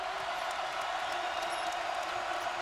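At a college basketball game between Missouri and Kansas, a dense arena crowd roars in a continuous wash of cheering and noise, with no pauses.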